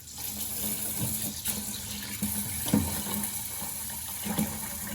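Water pours steadily and splashes as rinse water is drained from a pot of rice for onigiri, with occasional soft knocks and clinks of rice and container.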